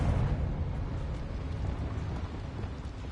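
A Confringo fire spell detonates in Hogwarts Legacy, a heavy, dense rumbling blast that keeps roaring evenly for several seconds without a distinct sharp crack.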